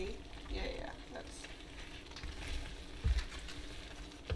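Mixed vegetables stirred into a pot with chicken pot pie filling, giving faint sizzling and scraping sounds with a couple of soft knocks near the end.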